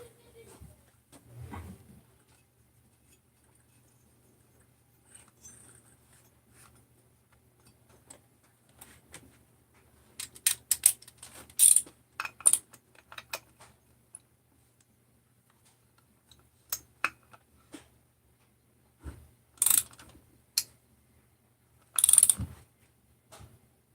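A ratchet wrench works on the crankcase of a Jonsered 630 chainsaw in scattered bursts of quick clicking, close and sharp against long quiet gaps, with some speech in places.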